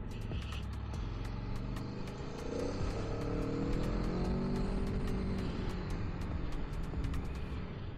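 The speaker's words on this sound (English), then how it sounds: "there's a lot of traffic right now" Road traffic passes around a rider on an Aprilia Tuono V4 on a busy Sunday, a steady wash of vehicle noise and wind with engine tones rising and falling, plus sharp intermittent ticks.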